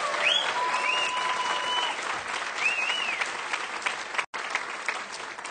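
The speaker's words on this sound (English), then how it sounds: "let's give a round of applause for Lisa Morton" An audience at the Bram Stoker Awards ceremony bursts into sustained applause for an honoree, with a few high whistles rising over the clapping and a brief dropout near the end.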